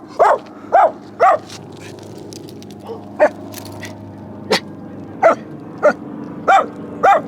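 A leash-reactive dog out on a walk gives about ten short, chuffy barks, single and in quick pairs, fairly close and loud, with quiet gaps between them.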